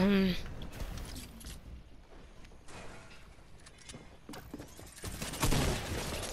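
Rapid gunfire from a minigun and other weapons in a Fortnite Chapter 2 Season 5 battle, bursts of shots and impacts recurring throughout with game effects layered in between.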